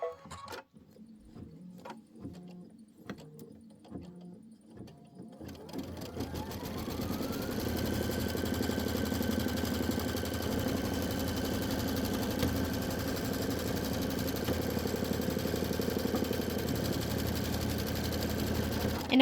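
Embroidery machine stitching an outline around a quilted pinwheel pillow top: after a few seconds of quieter start-up ticking, a steady, rapid mechanical needle chatter runs continuously and close, with no talk over it.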